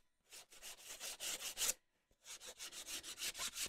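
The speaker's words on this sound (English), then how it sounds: "I have my little sanding block here, and that'll kind of get the rough edges" A sanding block rubs the rough edges of glued book pages in two bursts of quick, rhythmic back-and-forth strokes, close and fairly soft, with a short pause between them.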